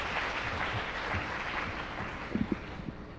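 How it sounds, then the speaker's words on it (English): Soft, distant applause from an audience welcoming a speaker at an international career fair, a faint continuous patter with a few sharper claps near the end. "Please welcome Mr. Wang with a big round of applause."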